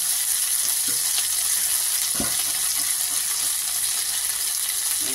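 Okra and nigella seeds fry in hot oil, giving a steady, bright sizzle close by, with a few faint stirring knocks under the continuous crackle.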